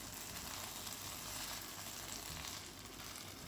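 Scrambled egg poured into a hot pan with tomatoes fries with a soft, steady sizzle, a continuous low hiss at modest volume with no voices over it.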